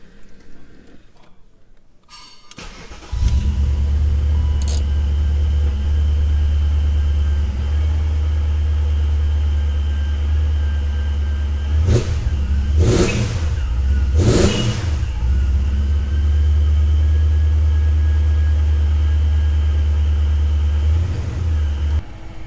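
Supercharged 2003 BMW E39 M5 with Hamann parts starting up after a spark plug change, then idling with a deep steady rumble, sharp revs blipped twice in the middle, close and loud.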